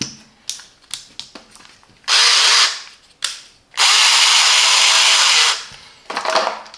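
A Parkside PABH 20-Li C3 cordless hammer drill runs in several loud bursts, two of them sustained, between clicks and handling noises, with no talking.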